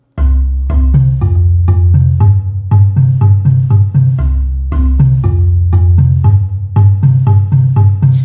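Low, resonant mallet notes on a bass marimba repeat in a steady pattern with an extra note woven in, each strike warm and quickly fading.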